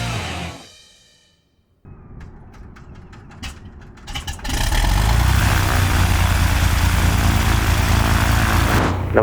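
A 1977 Cessna T210M propeller aircraft engine, a brief near burst fading into quiet, then sharp ticks and coughs as the engine starts and catches into a loud, steady close-up drone that holds to the end.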